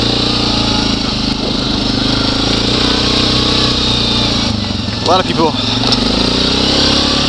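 A big, wide quad ATV engine drones steadily and loud throughout while being driven, with a brief louder surge near the end, and someone talks briefly over it.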